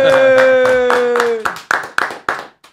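A few loud, separate claps ring out after a sustained tone, spaced sharp hits fading toward the end, with voices in a casual Spanish-language conversation around them.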